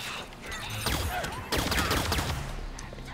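Rapid gunfire bursts in the shooter game Halo 5: Guardians, dense overlapping shots with sharp onsets and a few whizzing sweeps, loud and continuous across the whole stretch with no voices.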